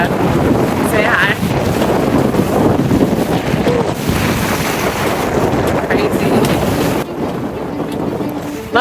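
Strong wind blasts across the microphone aboard a sailboat heading through a pass in the Tuamotus, a loud continuous roar with gusty buffeting and water wash beneath, steady throughout and cutting lower near the end.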